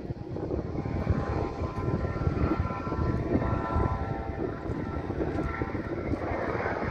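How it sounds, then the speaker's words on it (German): A helicopter circles directly overhead on the Aeolian Islands, rotor thumps and engine drone loud and steady throughout with no other sounds. "Und ein Hubschrauber kreist direkt über mir."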